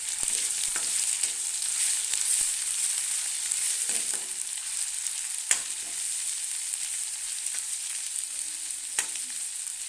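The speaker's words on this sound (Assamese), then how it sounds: "এতিয়া ভালদৰে লৰাই দিম" Chopped onion, ginger and garlic frying in oil with panch phoron, a continuous bright hiss of sizzling with occasional faint scrapes and taps of a spoon being stirred through, close and steady throughout, no voices.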